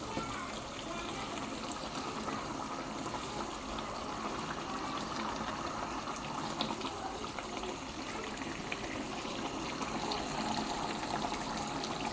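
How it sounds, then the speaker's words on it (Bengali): Water pours steadily into a pot for the whole stretch, a continuous splashing rush with kitchen background noise. "এর গায়ে পানি অ্যাড করবো"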